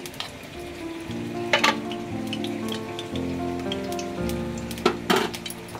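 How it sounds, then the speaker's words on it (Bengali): An egg fries in ghee in a pan, a steady close sizzle with occasional sharper spits and crackles and a low hum from the stove underneath, with no voices. "আমি ডিম ভাজবো এখানে ঘি দিয়ে"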